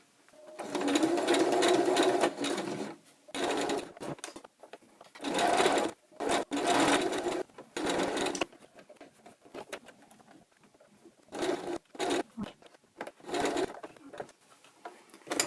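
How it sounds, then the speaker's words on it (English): A sewing machine top stitching along a seam of a fabric face mask, running in loud, rapid bursts of whirring stitches separated by short pauses and quieter handling sounds. "I'm going to stitch up to that instead of a 1 centimetre seam allowance"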